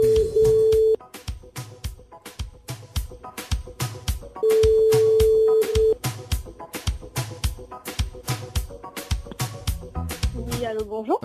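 A telephone call being placed on a live French-language morning radio show: a steady ringback tone sounds twice, about a second each time, over rhythmic background music with a punchy beat.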